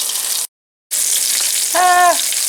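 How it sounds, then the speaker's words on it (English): A hamburger patty frying in hot tallow in a pan, a loud close crackling sizzle that cuts out briefly, then resumes with a short tonal squeak near the end, no speech. "we're going to throw a patty in the pan and see what it does"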